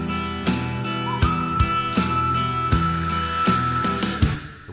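A whistled melody rides over a rhythmic cowboy-style music track made in Logic Pro X, with steady drum hits, the tone clear and sustained between beats.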